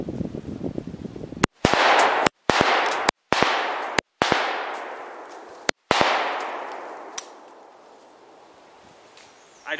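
A TriStar Viper G2 20-gauge shotgun fires 3-inch magnum shells in a rapid string of five loud, close blasts, each trailing off in a long outdoor echo, with a faint clatter afterward.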